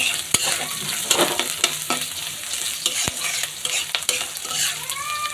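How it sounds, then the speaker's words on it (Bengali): Onion and coconut sizzle in a pan for kalai shak bhaji, with steady frying hiss and repeated scraping stir strokes and a few sharp utensil clicks, close and continuous with no talking. "তো আমি পেঁয়াজ এবং নারকেলটা আরেকটু সময় ভেজে নিচ্ছি"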